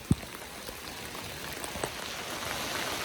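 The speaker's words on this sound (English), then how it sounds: "And here comes the rain, y'all." Steady rain falling outdoors, a soft continuous hiss of drops with a sharp tap near the start, no voices.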